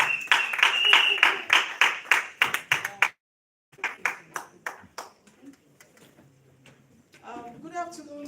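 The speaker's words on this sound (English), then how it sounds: "Can we clap for her, please?" Audience members clap for a speaker being welcomed at a master class for female MCs, a run of distinct claps that stops briefly, resumes more sparsely, then gives way to talk.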